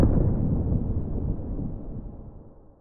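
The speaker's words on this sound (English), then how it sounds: "I found this really crunchy explosion sample that I really liked and a boomy geophone recording." A layered explosion sound effect for a fireball impact: a deep, crunchy explosion with a heavy low rumble from a boomy geophone recording that hits at once and slowly decays over a few seconds.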